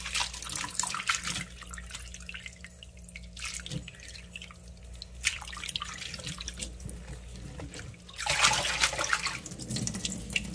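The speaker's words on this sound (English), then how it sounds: "you want to go ahead and give it a rinse, a good rinse. About 4 to 5 rinses" Tap water runs into a sink over sliced pig ears being rinsed, a steady splashing stream with drips and swirling water that surges louder toward the end.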